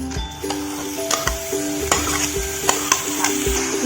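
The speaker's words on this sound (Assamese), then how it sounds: "গোটেইখিনি মিশ্ৰণ আমি ভালদৰে লৰাই আছোঁ।" A spoon stirs duck meat with banana stem and potatoes in a hot pan, giving loud, close scraping strokes at a steady rhythm over a constant sizzle of frying.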